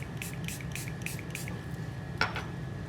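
A spray bottle gives a quick run of short, soft hissing bursts, followed a moment later by one sharper squirt, while making a turnip roll with a Japanese mandoline.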